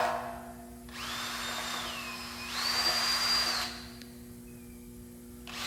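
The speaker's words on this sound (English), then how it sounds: "center punch and drill using a 5/16 drill bit for a 3/8/16 tap" A power drill bores hinge holes with a 5/16 drill bit ahead of tapping for 3/8-16 threads, whining steadily at moderate level in two sustained runs with a pitch shift between them, then stopping.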